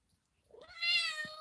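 A pet cat gives a single clear, drawn-out meow that rises quickly and holds close by in a quiet room.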